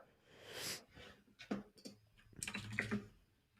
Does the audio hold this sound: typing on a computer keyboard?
yes